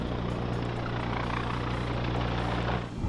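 Agusta A-129 Mangusta attack helicopter running steadily close by, with a loud, constant engine and rotor drone and strong low harmonic hum. The sound drops off abruptly at the very end.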